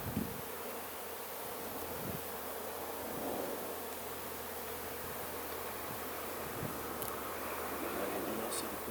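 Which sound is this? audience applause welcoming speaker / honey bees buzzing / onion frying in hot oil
honey bees buzzing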